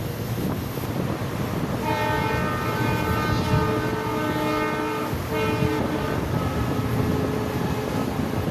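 A train rolls along the track past Gangakhed on the Parbhani–Parli line with a continuous rumble, while a long horn sounds twice, steady tones stretching for several seconds; no talking.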